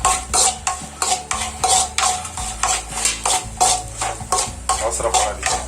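Semolina roasts in a pan over a medium flame while a spoon stirs it in steady rhythmic scrapes and taps, close and fairly loud, for a Kerala-style kesari.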